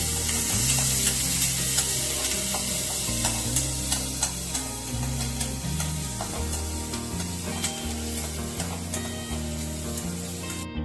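Finely chopped capsicum with onion sautéing in a pan for dhaba-style paneer bhurji, a steady close sizzle with repeated stirring scrapes of a spatula, continuous and fairly loud with no talk.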